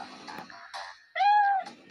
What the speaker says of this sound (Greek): Η γάτα, πρόσεχε τη γάτα.